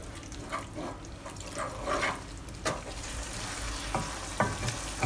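A Chinese pork sauce bubbles and sizzles in a pan while cornstarch solution thickens it, with a steady close frying hiss broken by soft stirring scrapes and a few sharper clicks of a utensil against the pan.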